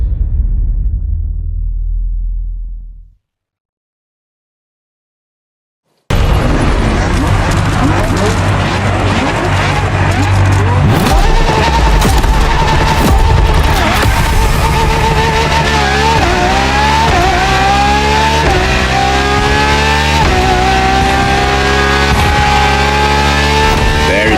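A Ferrari LaFerrari hybrid V12 supercar in The Crew Motorfest roars up close after a brief silence, revving hard through repeated upshifts with rising and falling engine pitch, tyre noise and a deep rumble throughout.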